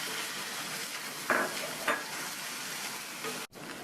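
Chopped tomatoes sautéing in masala in a pan for pulav, a continuous close sizzle with a couple of brief scraping stirs and a short break near the end.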